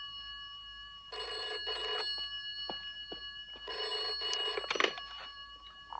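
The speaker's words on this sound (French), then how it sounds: "téléphone!" A 1971 television-series telephone bell rings in two long bursts separated by a pause, a bright metallic trill heard fairly clearly over quiet room tone, with faint clicks and movement between rings.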